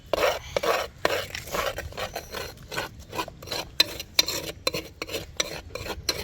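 Eggs are stirred and scrambled in a curry chatti for village-style egg fried rice, with a utensil scraping the pan in a continuous rapid rhythm of rasping strokes, close and clear with no talk.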